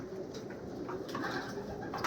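Pigeons in a breeding loft during the breeding season coo softly and repeatedly amid a steady murmur of low bird noise, fairly quiet and close with no speech.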